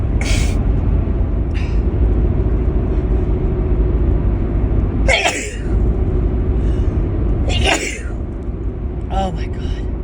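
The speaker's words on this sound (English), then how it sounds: "these sneezes are a lot stronger than usual" Sneezes from a person caught in a run of strong, back-to-back fits, heard as a few sharp bursts over a constant loud rumble like a running vehicle or engine.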